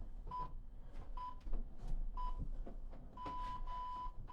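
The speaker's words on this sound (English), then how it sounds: "Listen out for the 3 beeps to let you know when we're done." A workout interval timer sounds a few short, bright electronic beeps and then a longer held tone to close a set in a push, pull, legs gym session. The beeps are faint over quiet background rustling.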